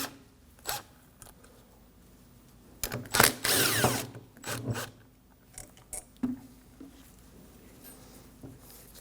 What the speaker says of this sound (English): We can go ahead and remove the bolts holding the pins with a 14mm.